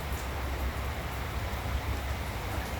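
Steady rain falls outdoors as an even, close wash of broadband hiss. It holds constant throughout and no voices come through.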